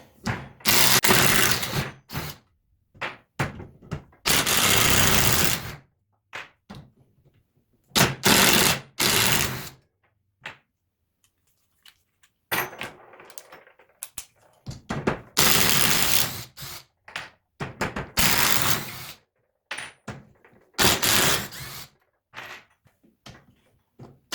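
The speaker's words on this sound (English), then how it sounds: "Now I'm going to take all the screws out." A Parkside PDSSA 20-Li A1 cordless impact driver backing screws out of softwood: repeated loud bursts of rapid rattling hammering, each lasting a second or two, separated by short quiet pauses.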